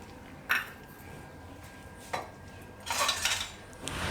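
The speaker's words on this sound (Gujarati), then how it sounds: "હું તો કુકર અહીંયા નીચે રાખી દે." Pressure cooker and steel pots clank in a home kitchen, three sharp metallic knocks and clatters spaced a second or more apart, close and fairly loud with no talking.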